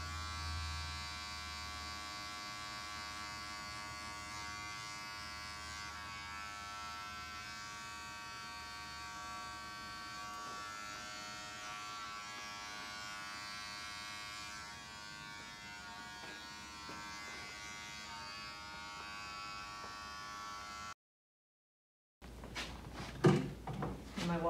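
A Wahl detailer hair trimmer cleans up a neckline during a barber competition haircut, giving a steady, close electric buzz for about twenty seconds before a short silence and a few handling clicks.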